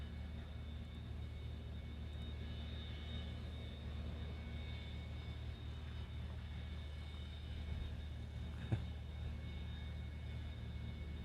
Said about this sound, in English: It is our favorite 737-200 making all that noise.